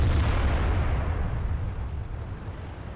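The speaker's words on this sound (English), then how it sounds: "We're going to go for another shot on him, try and get the finishing shot." A heavy cannon shot from a tank in World of Tanks opens with a loud, close boom and fades into a long, low rumbling roar lasting a few seconds.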